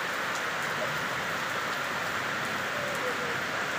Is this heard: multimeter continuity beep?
no